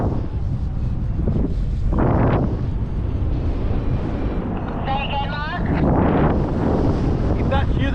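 Wind by a lake buffets the microphone with a steady, loud roaring rumble that swells and gusts in several surges.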